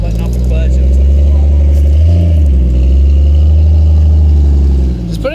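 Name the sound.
Mazda Miata engine revving while letting off the clutch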